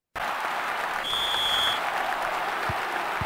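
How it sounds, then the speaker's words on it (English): A football stadium crowd applauds and cheers at half time, a steady dense wash of clapping that starts abruptly and holds at an even level, heard from a distance with a brief whistle-like tone in the middle. "The crowd had gone quiet for a moment there, but they've woken up"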